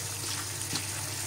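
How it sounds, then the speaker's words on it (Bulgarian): Cleaned shrimp rinsed under cold running water, a steady close splashing flow throughout with a faint hum beneath and no talk. "скаридите вече са почистени и се измиват със студена вода."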